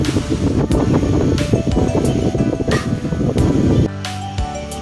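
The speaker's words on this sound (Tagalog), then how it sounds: "Yan, ang lakas ng hangin!" Strong wind at Picnic Grove, Tagaytay, buffets the microphone in loud, gusty roars with rustling bursts, then drops off abruptly near the end.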